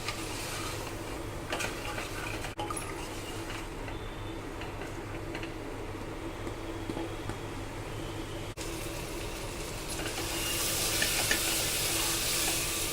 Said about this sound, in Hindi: सबको मिलाकर 3-4 मिनट अच्छे से भुनेंगे।